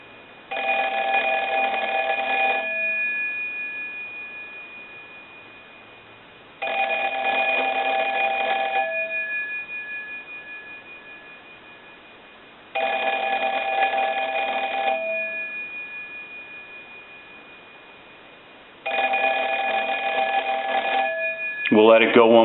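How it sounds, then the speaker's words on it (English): A Kellogg Red Bar rotary dial wall telephone bell rings in four evenly spaced bursts, each about two seconds long with a fading pause between, loud and close. "send a ring cycle like you were getting a call"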